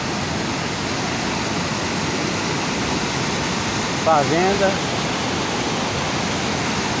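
Rushing water from a waterfall after rain at Belém de Maria, Pernambuco, fills the scene as a steady, dense broadband roar, with a person briefly speaking over it.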